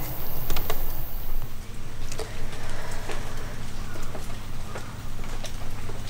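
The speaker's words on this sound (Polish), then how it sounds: "Siąpi taki drobny deszcz" Light drizzle falling outdoors in an unmown meadow, soft scattered patter of drops over a low steady background hum, no voices.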